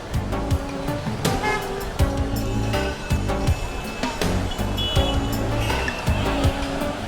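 Street traffic in Cuenca, Ecuador: cars pass close and loud with engine roar, tyre noise and short horn toots in a continuous busy stream.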